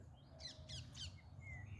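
Parrots squawk in three quick shrill calls over a steady low rumble, faint and somewhat distant, with no voices.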